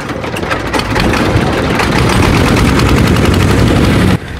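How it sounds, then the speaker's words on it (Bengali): A small river trawler's engine on the Padma catches and runs with a loud, rapid mechanical clatter that builds and holds steady, then drops off abruptly near the end. "তো ইঞ্জিন স্টার্ট নেওয়ার পর আলহামদুলিল্লাহ আমরা আবার রওনা দিলাম"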